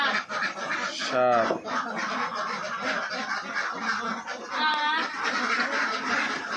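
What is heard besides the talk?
ducks quacking at a duck farm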